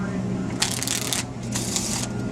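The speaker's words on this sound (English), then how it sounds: "We'll shuffle up the pack this time." A deck of playing cards shuffled by a street magician, two quick riffling bursts of crisp fluttering card noise, close and fairly loud over a low background hum.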